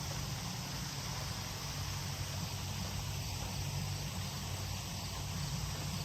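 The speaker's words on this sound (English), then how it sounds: "the cicadas are still making their noise" A steady, faint wash of cicadas buzzing fills the background in Fairview Park, continuous and even, with a low rumble underneath and no voices.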